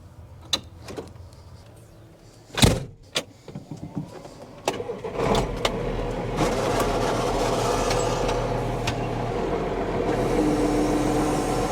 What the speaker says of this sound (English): I'm gonna chase him with the grain cart.